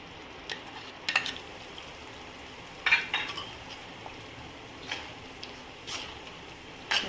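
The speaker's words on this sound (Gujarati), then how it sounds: "મિક્સ થાય એટલે આપણે તેલ છૂટું પડે ત્યાં સુધી એને સાંતળી લઈશું" Marinated paneer and onion with cream sauté in oil for a restaurant-style Paneer Kolhapuri, giving a faint steady sizzle broken by scattered light scrapes and clinks of a stirring spoon against the pan.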